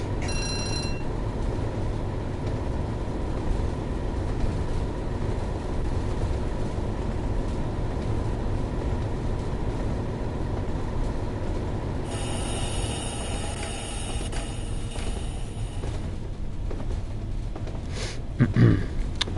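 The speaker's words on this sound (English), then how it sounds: "It's nice to just see a train go round a famous curve in the virtual world." A BR Class 31 diesel locomotive runs in the Train Sim World 2 game, a continuous low engine rumble and rail noise with a high ringing tone entering partway through and a brief clank near the end.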